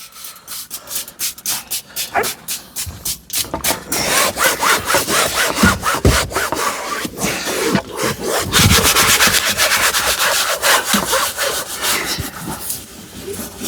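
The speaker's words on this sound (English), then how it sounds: "Give it a scrubbing." Hand scrubbing inside a van during a deep detailing clean, a close, loud run of rapid rhythmic rubbing strokes that keeps going nearly nonstop, with no talk.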